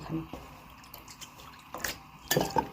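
Tulsi (holy basil) leaves are rinsed in water by hand, with soft drips, trickles and splashes coming in short bursts close by, quiet overall with a brief livelier splash near the end.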